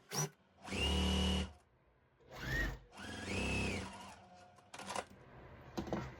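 A sewing machine stitches quilt strips in short motorized bursts: one long run, a brief one, then a longer run, separated by quiet pauses, with small handling clicks near the end.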